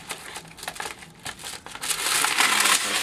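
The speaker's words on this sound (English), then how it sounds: "Take a piece of wax paper. I'm gonna tear a piece." Wax paper is torn and crinkled at close range while making decorative paper, giving irregular crackling rustles that build into a sustained loud crunching tear.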